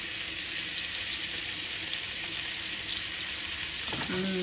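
Fish fries in hot oil in a pan, a close, continuous hissing sizzle that stays level throughout, with a brief clatter near the end and no talk.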